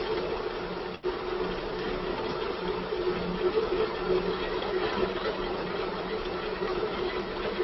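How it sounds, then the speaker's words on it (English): A coffee grinder grinds beans for a Chemex brew, producing a continuous buzzing whir at moderate volume that runs steadily through, with a brief dip near the start. "throw it in the grinder, and I want to grind it all through."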